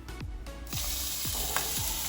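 Onions and garlic hit hot oil with a sudden sizzle that builds into a steady, close frying hiss, broken by a few soft scraping knocks from stirring.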